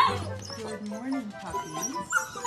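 Puppies yip and whimper in a quick, excited run of small barks, close by, with a person talking over them.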